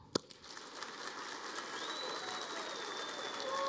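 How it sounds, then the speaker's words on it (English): An audience at a live pitch competition claps together to cast a vote, a broad, fairly soft swell of applause that builds after one sharp hit at the start, with faint tones sounding over it. "If you think he should win, clap"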